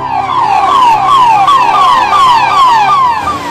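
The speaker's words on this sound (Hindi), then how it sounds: "ये गाड़ियां सायरन बजाते हुए पहुंच जाती हैं" An emergency vehicle siren sounds loud and close on a busy city street, cycling through rapid, repeated falling wails with no voices.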